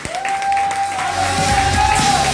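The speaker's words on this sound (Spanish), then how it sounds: "Vamos a recibir con un fuertísimo aplauso a Sergio Campos y Marcos Romero." Studio audience applauding and cheering to welcome two contestants at a televised concert gala semifinal, a steady loud wash of clapping that builds slightly, with a sustained vocal cheer riding above it.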